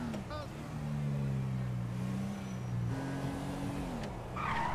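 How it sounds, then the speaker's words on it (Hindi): Car engine in GTA V droning steadily up close, pitch shifting as the driver accelerates, with a brief tire skid near the end. "मैंने इसकी गाड़ी ले ली है और अब हम निकल पड़े हैं अपने सफर पर"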